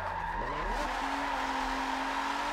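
Tyres squeal steadily as a car drifts using clutch kicks instead of the handbrake, a continuous loud skid with the engine note rising and settling underneath.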